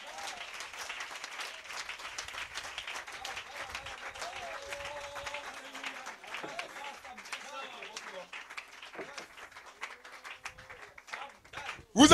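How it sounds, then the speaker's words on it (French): A church congregation applauds in sustained, dense clapping that carries on for several seconds before thinning out, with a voice speaking over it. "Donnez-lui une main d'acclamation"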